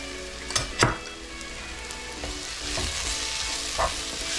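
Ingredients for a mussel stew are stirred in a hot pot, with a soft sizzle under a few sharp scraping clatters from the utensil, close by and without talk.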